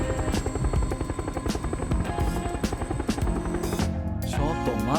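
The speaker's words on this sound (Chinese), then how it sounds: "游戏里的直升机对着火山撞" A helicopter in the PUBG video game thrums with a loud, continuous rotor chop and engine drone, close and steady, with a shift in tone near the end as the craft heads toward lava.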